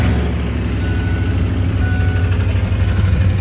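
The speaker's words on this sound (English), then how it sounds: "Now it does still have some loose material in the catalytic converter, which is what that rattle is" A Ford Explorer engine idles loud and close, a steady low hum running throughout; any start or loose catalytic converter rattle is not clearly picked out.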